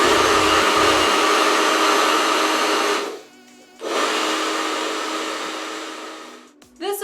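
A hair dryer on high speed and medium heat blows a steady loud whoosh while drying curly hair, cutting out briefly mid-way, then roaring again before switching off.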